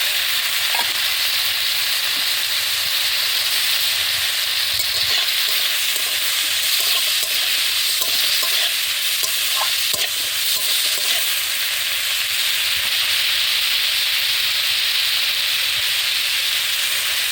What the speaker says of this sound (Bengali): চিংড়ি মাছগুলো ভাজা হয়েছে, এবার আমি এই ফলটা দিয়ে দিই।